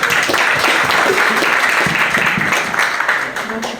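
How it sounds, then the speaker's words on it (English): A dense round of audience applause fills an event hall celebrating Quaid-e-Azam's birthday, loud and sustained with voices mixed in, then tapering off toward the end. "Please, a big round of applause for her."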